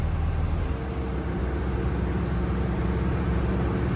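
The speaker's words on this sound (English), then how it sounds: "And there's your exhaust brake. Let you hear it." Deep, steady low throb of a Dodge Ram 3500 Quad Cab with a 5.9L turbo Cummins diesel and 6-speed, its exhaust brake engaged, running continuously and loud at close range with no voices.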